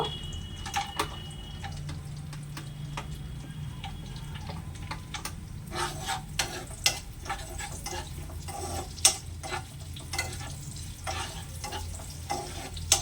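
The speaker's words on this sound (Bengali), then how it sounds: "খোরমা আর কাজু যখন একটু ভাজা ভাজা হয়ে যাবে" Steady sizzling of dates and cashews frying in ghee, with frequent scraping and clicking as a spoon stirs the pan.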